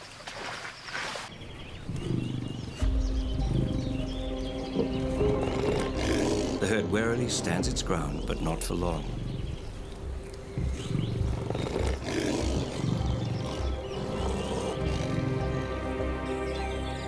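Lions roar and growl at a waterhole in Etosha, Namibia, where an elephant herd has gathered, the deep calls heard loud and sustained beneath a narrator speaking throughout.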